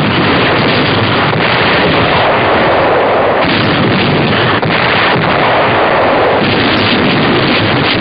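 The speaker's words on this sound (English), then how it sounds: "Yank artillery cracks down on a Nazi bastion in the harbor as point-blank firing razes the last" Artillery firing point-blank at a German stronghold in Cherbourg harbor, 1944, heard as a continuous loud roar of gunfire and blasts with heavy wind-like rumble throughout, no voices.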